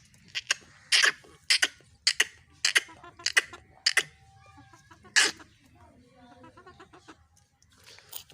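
Hens and roosters cluck in a backyard coop, a series of sharp, close bursts in irregular rhythm, some louder squawks among softer calls.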